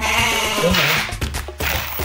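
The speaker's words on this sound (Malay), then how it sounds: "Kambing pun ada." Goats bleat close by in a series of short, loud, wavering cries, with clattering and rustling in the background.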